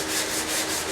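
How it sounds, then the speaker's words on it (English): Sandpaper is pushed hard by hand over a piece of wood, giving a close, steady rasping rub with a gentle back-and-forth swell. "when I come in here and I start sanding this piece of material down"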